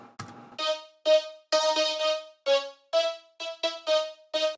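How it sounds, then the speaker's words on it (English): Vocoder effect applied to a synth patch in a music production, heard as a sequence of about ten short robotic, voice-like chords with rich harmonics, played in an irregular rhythm, close and clear with no talking. "And then there's the vocoder."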